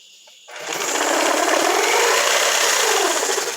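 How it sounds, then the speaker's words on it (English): A reciprocating saw (Sawzall) with a worn blade that has struck concrete cuts through a closet's termite-damaged bottom plate, starting abruptly and holding a loud, steady buzzing rasp, close up with no talking. "I guess we're going to go ahead and grab the sawzall here and make life a little bit easier"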